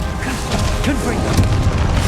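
A Confringo spell blast goes off in Hogwarts Legacy, a short booming crash with crackling mechanical debris, set against battle sounds and brief voice fragments.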